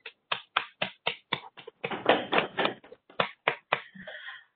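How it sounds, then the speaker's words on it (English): Applause from an audience at a school board work session, a burst of separate claps swelling into denser clapping mid-way, then thinning to a few scattered claps, with no talk over it. "please join me in applauding them"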